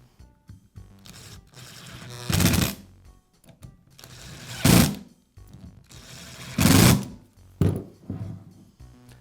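Screws being driven in to secure the lower cover of a Dremel rotary tool during a brush holder repair: four short whirring bursts, evenly spaced, with quiet pauses and small clicks between them.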